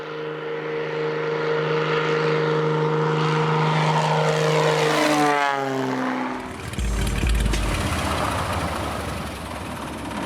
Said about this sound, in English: here comes this plane landing, on the road, and it picks me up and off we go